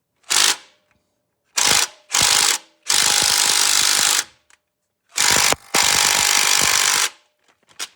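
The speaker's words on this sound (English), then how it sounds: "we're just going to break that loose with a wrench" Harsh ratcheting and clattering bursts from a wrench breaking loose the oil drain plug on a 2006 Ford Fusion, coming in several loud, close bursts of one to two seconds separated by silence.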